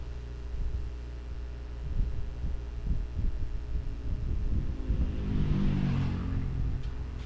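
An Epson L3110 printer runs a head cleaning cycle with a steady low mechanical hum and rhythmic throbbing, swelling a little toward the end, continuous and close with no speech.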